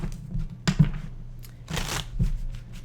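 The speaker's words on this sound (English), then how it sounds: "Let me just shuffle this real quick" Tarot cards being shuffled by hand, a papery riffling in several short bursts with a longer flurry near the end, close and fairly quiet, with no talking.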